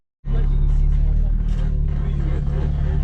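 BMW 335i convertible engine firing up and settling into a loud, steady low rumble heard close by, starting abruptly after a moment of silence and holding constant to the end.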